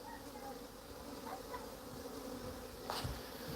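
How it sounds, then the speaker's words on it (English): A swarm of bees buzzes steadily and densely throughout, a continuous close hum with a brief brighter swell near the end. "This is what we call the bee procession."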